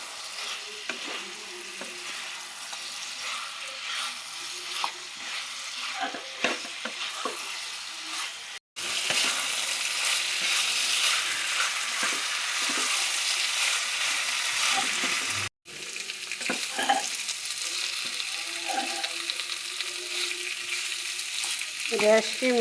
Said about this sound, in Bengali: গ্যাসকে মিডিয়াম হিটে রেখে কষাতে থাকলাম।